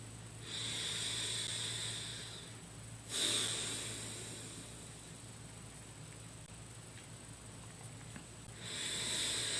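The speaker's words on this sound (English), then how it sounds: "Now we're going to begin breathing in the nose and out the nose into the belly, doing diaphragmatic breathing in our meditative breath." Slow diaphragmatic breathing in and out through the nose during meditation: long soft airy inhales and exhales, close and steady, with no talking over a faint constant background hum.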